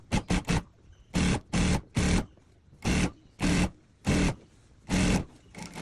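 A sewing machine stitches two fabric pieces together for a model gown in short bursts of fast, rattling needle strokes separated by brief pauses, close and loud, with no talking.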